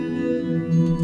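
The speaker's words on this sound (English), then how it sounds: "We'll put this on hall. If I don't have the original signal, it sounds like this." A guitar heard only through a fully wet hall reverb with no dry signal, a sustained, washy chord tone that swells slightly near the end of a brief moment.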